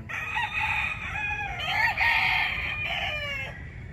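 A fighting rooster kept in a backyard crows loudly and close, a long wavering call with a second rise, over steady low background rumble.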